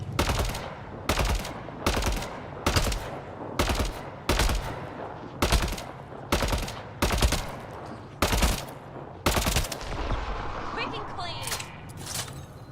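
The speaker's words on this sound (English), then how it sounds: "What are you shooting at?" Weapons fire in the video game Mass Effect Andromeda comes as loud, sharp bursts repeating about once a second in an even rhythm, then gives way to a busier, softer clatter near the end.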